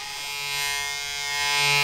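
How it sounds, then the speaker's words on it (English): A Remington electric razor shaves with a continuous, close, steady buzzing hum that swells slightly in loudness, with no voices over it. "You caught me shaving. I was a dedicated blade shaver until my wife bought me a Remington electric razor"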